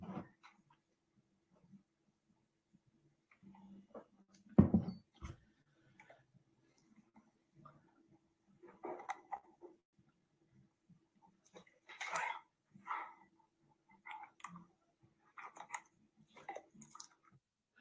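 Dog offered a KeySplint dental night guard sample, making faint, sparse sniffing, licking and chewing sounds in short bursts with quiet pauses between them, close by, with no talking.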